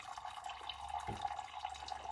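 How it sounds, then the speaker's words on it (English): Water is poured through coffee grounds into a cup: a soft, faint, steady trickle with small splashy flickers, close up and with no voices. "I start pouring some water through"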